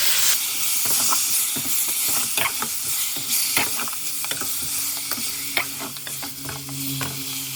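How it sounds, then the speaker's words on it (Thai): Chicken stir-frying with chili in a hot pan for a Thai country-style steamed chicken dish, with continuous loud sizzling and frying hiss and repeated clacks and scrapes of a utensil stirring, no talking. "หลังจากเขาคั่วพริกแล้วเขาก็เอาไก่ลงมาคั่วกับพริกเลยเจ้านี่นะ"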